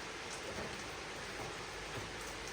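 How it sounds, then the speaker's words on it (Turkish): Steady rain falls on surfaces in a mountain village, a dense, even hiss of drops with no voices, continuous and close throughout. "Çok güzel yağmur yani valla."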